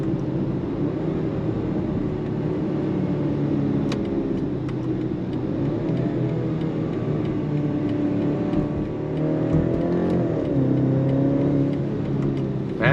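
A turbocharged 2025 BMW X3 compact crossover SUV pulls smoothly under acceleration, its engine drone rising and falling in pitch over a steady road rumble from inside the cabin.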